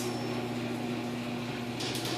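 A garage door opener, model 895, runs a small garage door with its chain dragging, giving a steady close mechanical hum with a constant whine and faint rattling throughout.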